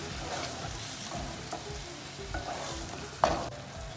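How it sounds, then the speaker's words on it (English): Veg red pasta sauce sautéing and being stirred in a pan with salt added, a steady soft sizzle with occasional clinks and scrapes of the spoon, one sharper clatter near the end. "Let it saute for a minute before we add the pasta."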